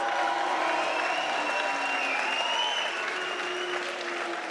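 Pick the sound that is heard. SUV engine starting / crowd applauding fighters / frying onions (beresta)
crowd applauding fighters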